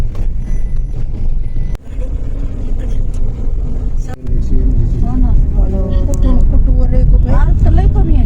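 A car driven by a girl's maternal uncle, its engine and road rumble running steadily underneath throughout, with several people chatting and a few brief beeps near the end.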